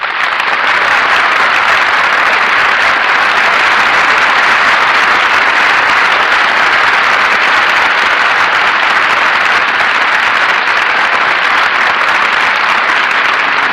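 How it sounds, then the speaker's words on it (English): A theatre audience at a live radio broadcast from Chicago applauds loudly and steadily, a dense, even wash of clapping that continues for the whole stretch without any talk over it. "The applause we hear now is for our musical director, Henry Weber"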